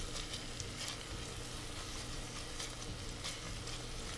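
White onion sizzling in olive oil at the bottom of a pot, a steady, fairly quiet frying hiss with faint crackles throughout and no talking.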